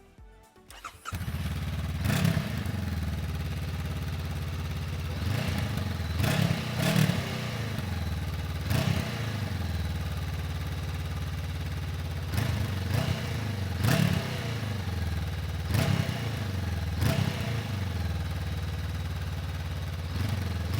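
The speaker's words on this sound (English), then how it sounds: "just listen to how that 471cc engine sounds" A Honda NX500 motorcycle's 471cc engine idles steadily with a low, even rumble, punctuated by repeated revs of the throttle every few seconds.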